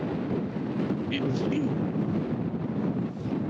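Strong wind at night roars steadily and buffets the microphone for the whole stretch, a dense continuous rush with no pauses.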